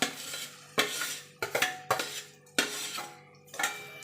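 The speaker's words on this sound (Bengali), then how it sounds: "দিয়ে এবার ভালো করে মিশিয়ে নেব।" Grated potato being mixed into fried spice masala in a pan over low heat: sharp, irregular spatula scrapes and knocks against the metal pan, about six distinct strokes over a faint sizzle.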